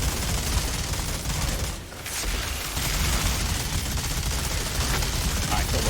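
Sustained rapid gunfire from a CT15 minigun in the looter-shooter Outriders, a dense continuous roar with a brief dip partway through before resuming loudly and steadily.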